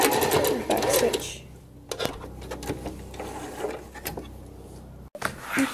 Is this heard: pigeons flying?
no